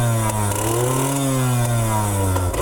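A Japanese motorcycle engine revs continuously close up, its pitch rising slowly, then falling back, then rising again.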